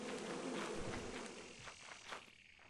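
A swarm of bees in a video game gives off a continuous dense buzzing drone, fairly faint and steady, with no talking over it.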